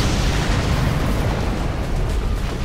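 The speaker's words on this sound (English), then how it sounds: "now he's going to airstrike with the napalm" A napalm airstrike in a strategy video game sets off a loud, sustained roaring blast of dense rumbling noise that holds steady for a few seconds, with no talking.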